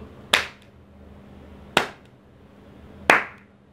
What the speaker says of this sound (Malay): saya tepuk tangan saya dekat laptop saya